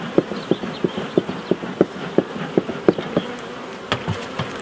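A guard honeybee buzzes near a beehive, its hum accompanied by a regular run of soft, evenly spaced taps or knocks, close and fairly loud.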